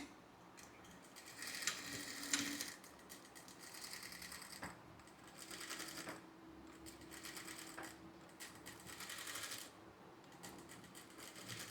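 Sewing machine stitching cloth at a half-inch stitch length, heard as a quiet run of ticking mechanical stitches in short bursts with pauses between them.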